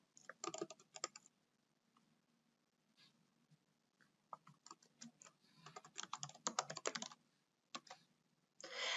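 A username and password are typed on a computer keyboard in quick bursts of clicky keystrokes broken by short pauses, close but fairly quiet, with no talk.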